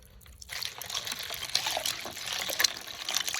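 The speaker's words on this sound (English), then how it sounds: "just give them a little dunk, rinse them off a little bit" Freshly caught crappie are dunked and rinsed in freezing cold water, a close splashing and trickling that starts after a brief quiet moment and continues with small sloshes and drips.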